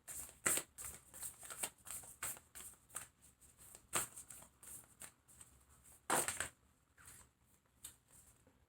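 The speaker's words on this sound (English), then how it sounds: "I shuffled these cards and then I hand shuffled" Tarot cards shuffled by hand, with repeated riffling and snapping bursts, some sharp and loud, others softer, running irregularly for several seconds close up without speech.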